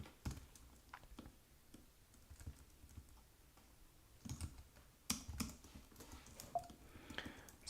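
Fingers type on an Apple keyboard, irregular soft key clicks and taps in quick bursts, close and fairly quiet, with a few louder keystrokes toward the end and no speech.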